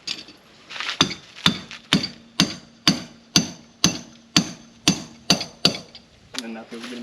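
Hammer blows on wooden Dutch barn doors: about eleven sharp, evenly paced strikes, close and loud, each ringing briefly before the next, with a few quieter knocks at the end.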